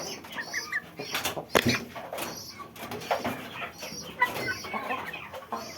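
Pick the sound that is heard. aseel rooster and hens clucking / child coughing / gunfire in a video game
aseel rooster and hens clucking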